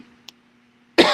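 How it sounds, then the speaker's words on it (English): A single sharp cough bursts out near the end after near silence, preceded by a tiny click. "I'm gonna be coughing"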